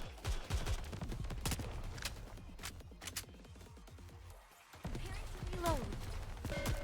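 Bursts of rapid gunfire in the mobile shooter Nikke: Goddess of Victory, crisp repeated shots in dense volleys with a short lull before firing resumes, with character voices speaking over the action.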